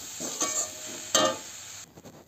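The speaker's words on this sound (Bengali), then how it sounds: "এবার ভালো করে পাক দিয়ে নেবো নারকেলটা" Grated coconut filling cooking in a pan is stirred for a sweet coconut-stuffed crepe, with soft scraping strokes and a gentle sizzle. A sharper scrape stands out midway before the sound quiets.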